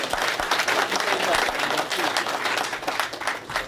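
An audience applauds and claps for a player at a live guitar clinic in a music store, a steady burst of clapping from a small crowd with a voice speaking over it.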